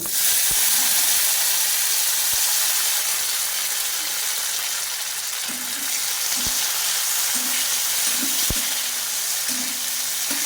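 Steady sizzling of tomatoes frying in hot oil after onions, continuous and close, with a few sharp clinks and scraping stirs scattered through it.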